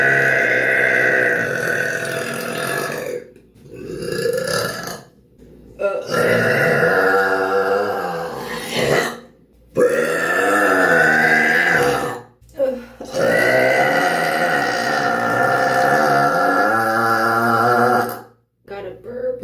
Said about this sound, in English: Look at it burp.